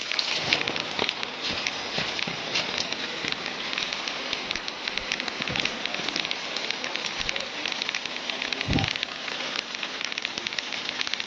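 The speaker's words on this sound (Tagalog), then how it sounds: "Maliligo naman sa ulan." Steady heavy rain hisses and patters close by, with a couple of faint low rumbles underneath.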